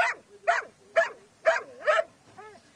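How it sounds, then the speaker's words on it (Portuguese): A firefighters' sniffer dog searching floodwaters in São Leopoldo, Rio Grande do Sul, barks five times in a steady rhythm close by, followed by a higher whimpering yip. "os bombeiros militares localizaram um corpo com a ajuda de um cão farejador"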